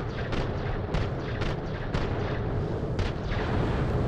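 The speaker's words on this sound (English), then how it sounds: "Let me test out my new gun." A new gun fired in Borderlands: The Pre-Sequel, a run of six or seven heavy booming shots at a fairly even pace over rumbling game noise, with no talking.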